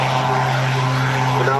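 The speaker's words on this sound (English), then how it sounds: "get a picture of the 2013 Tucano display aircraft flying at 100 feet" A Tucano T1 display aircraft flies low at about 100 feet over an RAF Cosford airshow, its propeller engine droning loud and steady throughout.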